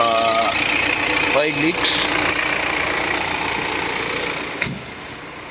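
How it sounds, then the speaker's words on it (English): A 2020 BMW X2 xDrive20d engine idles with a steady low rumble and no knocking while someone speaks briefly over it during an inspection, followed by a sharp click. "Engine sounds fine, no knocking sound"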